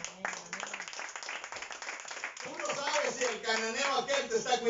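Congregation in a church service clapping and applauding for the Lord, a dense burst of hand claps that swells and grows louder over the seconds while a preacher's voice carries through it.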